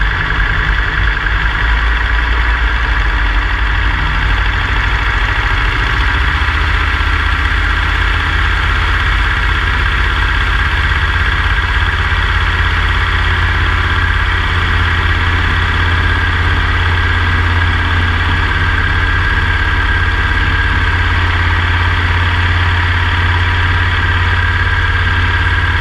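A 1936 Rearwin Sportster light airplane's engine runs steadily and loudly through takeoff, a constant low droning hum with vibration and no voices.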